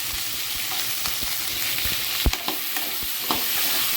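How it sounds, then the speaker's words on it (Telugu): Brinjal pieces seasoned with turmeric and salt fry in oil, a dense close sizzle broken by a few sharp taps and scrapes of a spoon stirring in the pan. "ఒక 5 నిమిషాలు వీటిని ఈ విధంగా ఫ్రై చేసుకుంటే సరిపోతుంది"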